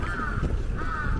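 Crows caw twice in quick succession, fairly close and clear, over a low background rumble with no talking.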